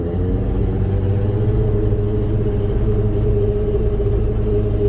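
A Sport Jet 120 hp jet boat engine runs in reverse with a steady, loud low rumble and constant drone close by.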